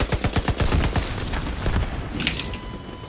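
Rapid automatic gunfire bursts and a grenade blast in The Division 2, a quick run of sharp cracks at the start easing into a denser rumbling roar as the shots taper off, with no voices.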